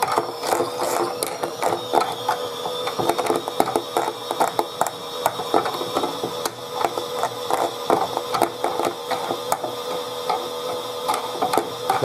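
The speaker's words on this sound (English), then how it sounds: "he's trying to spin at 150 RPM though" Chad Valley pink toy washing machine trying to spin at 150 RPM, a continuous clattering, ratcheting mechanical whir with rapid ticks and rattles of small plastic gears, close and steady throughout.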